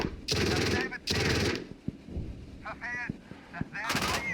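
A Marder A1 infantry fighting vehicle fires bursts of machine-gun fire in a combat video game, two long loud sustained volleys followed by scattered shots and impacts.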